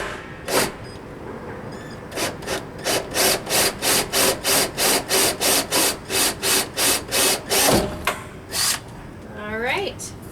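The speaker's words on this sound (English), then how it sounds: "All right, we got that hole drilled." A drill bores a hole through the wall of a plastic rain barrel, giving a run of regular rasping bursts that speed up into a steady pulse, then stop as a voice begins.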